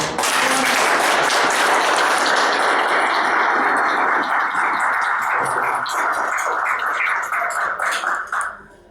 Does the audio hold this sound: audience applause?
yes